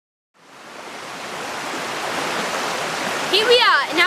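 River Douglas flowing in Adlington, a steady broadband rush of water that fades in and holds, fairly loud and close, with a voice briefly rising over it at the end.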